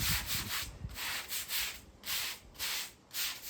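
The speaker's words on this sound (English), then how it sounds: "On the grout joints, use the full brush, put your weight on it." Stiff brush scrubbing outdoor tiles and grout joints, a loud rhythmic rasp in repeated strokes about every half second, alone with no talk.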